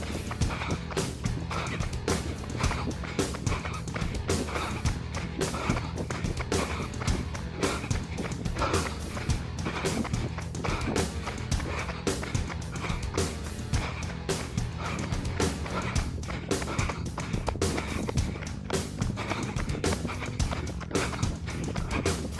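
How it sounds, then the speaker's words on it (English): A runner's feet strike the ground in steady, rhythmic running footfalls throughout a speed interval workout on a loop around tennis courts, with breathing and outdoor noise mixed in. "I'm hearing footsteps behind me."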